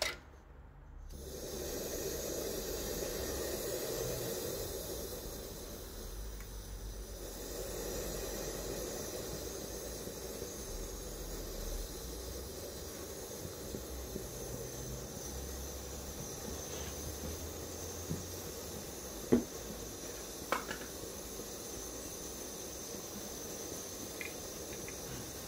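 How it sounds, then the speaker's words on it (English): Steady hiss from steam rising off a Sea to Summit pot on an MSR Whisperlite camp stove, an even broadband rush lasting throughout with a few faint clicks and small knocks near the end. "Wow, there's a serious amount of steam coming off."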